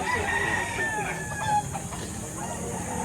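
A rooster crows loudly nearby at a chicken market in Lipa, Batangas, with hens clucking around it, then the chatter of chickens continues.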